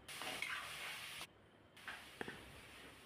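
Bottle gourd pieces are stirred with salt in a frying pan for a chicken curry. A soft, faint sizzle runs throughout, with a brief pause and a few light scraping strokes, and no talking.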